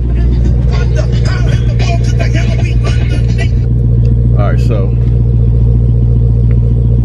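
A Dodge Hellcat Challenger pulls away, its deep engine rumble steady and loud throughout, with someone talking over it at the start.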